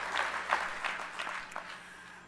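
An audience applauds a speaker at a New York State AFL-CIO labor gathering, a moderate, steady patter of many hands with a few louder bursts, heard from some distance in a large hall.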